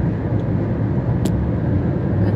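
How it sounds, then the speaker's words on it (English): A car engine makes an odd revving noise during a long drive, heard as a steady, fairly loud low drone that runs unbroken from start to finish with no voices. "my car is making, you can probably hear it, a weird revving, which I don't think it's supposed to be making"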